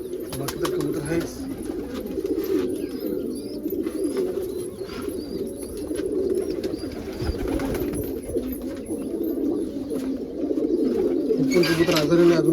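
Domestic pigeons coo repeatedly at close range, giving soft, rolling calls, while a person talks over them much of the time.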